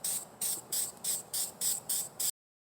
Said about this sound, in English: we're gonna go ahead and spray a little bit of these doodles over it